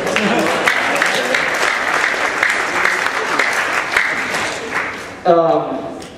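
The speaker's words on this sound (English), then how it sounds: "you can clap to that if you want" Dense audience applause fills a campus coffeehouse comedy set, a steady wash of many hands clapping for several seconds before a voice cuts in near the end.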